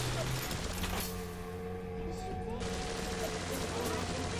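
Gunshots strike an enemy in BioShock amid a continuous, dense din of in-game fire and mechanical clatter, with game voices mixed in.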